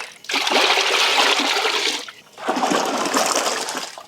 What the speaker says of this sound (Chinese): 把所有的粉水放到一个盆子里面